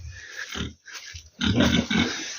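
A sow and her piglets grunt on a small farm, with a run of low, snuffling grunts in uneven bursts that grow louder and denser toward the end, close by.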